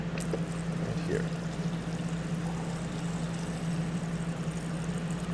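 An LG 30 cu. ft. Door-in-Door smart refrigerator's dispenser runs continuously, a steady mechanical hum with rattling crushed ice and pouring water, close and even throughout.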